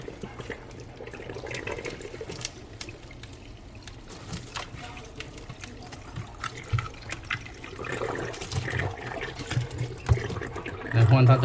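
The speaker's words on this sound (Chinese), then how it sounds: "那需要用水跟它冲，跟它 defrost 它的冰。" Water sprayed to rinse ice off the defrost parts inside a Mitsubishi refrigerator, a steady close splashing and hissing stream that swells louder toward the end.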